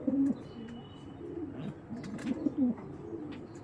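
A pair of black checker racing pigeons cooing close by, soft low throaty coos repeating in short phrases, quiet and alone with no voices.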